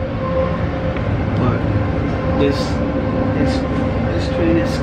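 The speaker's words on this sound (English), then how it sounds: "We're in the train now, the IC." Inside a moving IC intercity train in Germany, a steady low rumble and rolling rail hum fill the carriage, with occasional brief squeaks and rattles, while a voice speaks briefly over it.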